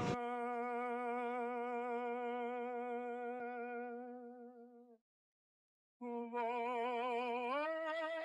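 A sustained singing voice with wavering vibrato, thin and distant as from an old wax cylinder recording, breaking off for a second before resuming.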